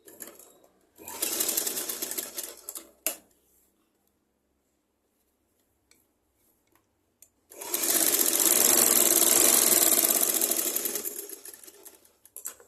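Sewing machine stitching a blouse hem into a V shape, two loud sustained runs of fast whirring stitches separated by a few seconds of near silence.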